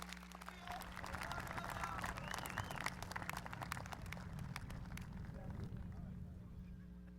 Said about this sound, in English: Have a big round of applause for Olivia.